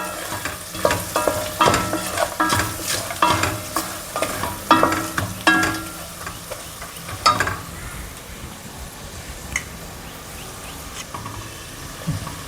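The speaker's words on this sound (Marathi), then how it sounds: "मसाले टाकल्यानंतर चांगल्या मिक्स करायचं आहे" Spices being stirred into a hot pan while frying for ivy gourd masala rice: a clear sizzle under repeated scraping stirs, busy and rhythmic for the first seven seconds, then a softer, steady fry with only occasional stirs. No one speaks.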